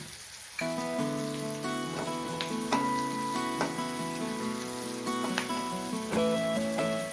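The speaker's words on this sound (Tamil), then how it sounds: "மூணு பச்சை மிளகா கீறி வச்சுருக்கேன் அதையும் சேர்த்துக்கிறேன்" Slit green chillies sizzling in a frying pan for a village-style vanjiram fish curry, crackling and popping steadily throughout with bright sharp spits over a dense frying hiss.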